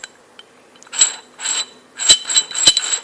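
A loose, poorly fitting mechanical part is wobbled by hand. It gives close metallic clinks and short ratcheting rattles in several separate bursts over a quiet background.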